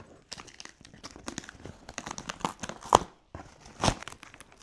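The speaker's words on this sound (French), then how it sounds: "Si j'ouvre le carton et pas le scotch, ça ne va pas le faire." A taped cardboard parcel being opened by hand: close, irregular crinkling and tearing of tape and card in quick bursts, with two sharper rips near the end.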